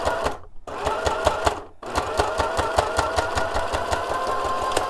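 Sewing machine stitching a blue shop towel face mask, running in a fast steady mechanical rhythm close by, pausing twice briefly before continuing to the end.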